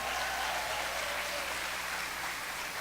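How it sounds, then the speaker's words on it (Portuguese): Church congregation applauding, a loud, even wash of many hands clapping steadily without a break. "A salva de palmas para Adolfo."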